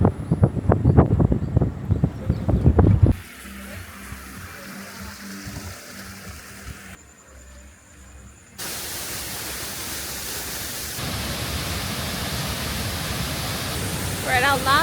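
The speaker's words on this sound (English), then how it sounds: "So there's like a little river running down, the main waterfall over there" Tibumana Waterfall and its stream in Ubud, Bali, give a steady broadband rush of falling and flowing water, heard near and continuous across several abrupt cuts, with talking at the start.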